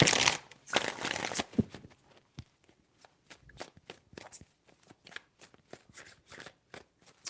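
Tarot cards are shuffled by hand: a dense riffling burst at the start, then a run of quick, crisp card slaps and flicks in an uneven rhythm, close and fairly quiet, with no talking.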